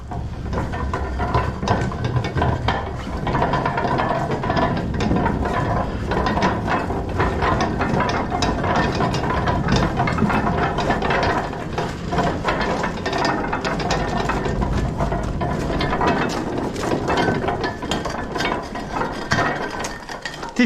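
A brand-new mine cart rolls along its track, giving off a steady, continuous loud rattle with clacking, ratchet-like mechanical clicks throughout and no talking.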